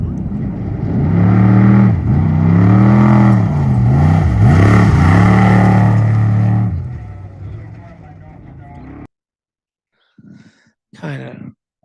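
On-board engine of a race car in the Parker Dam 500 off-road desert race, loud and close, its pitch climbing and dropping through several revs for about seven seconds before fading and cutting out, with brief sounds after a gap.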